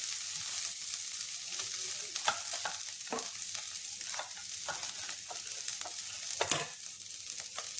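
Ginger, green chili, garlic and onion frying in a pan, a continuous soft sizzle broken by scraping stirs and a sharper clank near the end, with no talking.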